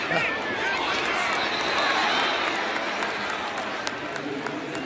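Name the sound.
stadium crowd cheering at NFL preseason game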